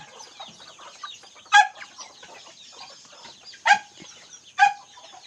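Three sharp chicken clucks ring out close by, spaced a second or two apart, over a soft background of chirping birds.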